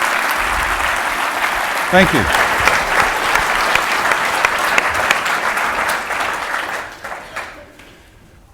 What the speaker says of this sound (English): Please, a round of applause for the Blue Economy cohort